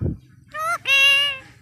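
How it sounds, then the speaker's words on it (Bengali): A pet parrot gives two drawn-out, tonal calls close by, a short one followed by a longer, steadier one after a brief pause. "টুকটুকি পাখি কত টুকটুকি পাখি"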